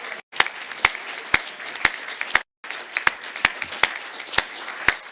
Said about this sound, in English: keep applauding until she gets to the stage.